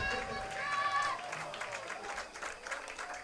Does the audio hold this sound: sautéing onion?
no